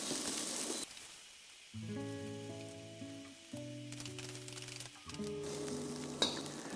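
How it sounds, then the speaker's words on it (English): Onions sautéing with salt in a pan for an Indian curry, a soft frying sizzle heard in bursts between stretches of background music. "Saute the onions till they are golden brown."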